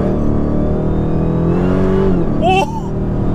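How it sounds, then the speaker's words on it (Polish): A tuned 915 hp, 1153 Nm Dodge Challenger Hellcat in Poland roars at full throttle, its engine note climbing steadily and loudly from inside the car before easing off, with voices talking over it. "Teraz puść gaz i wtedy gaz do końca."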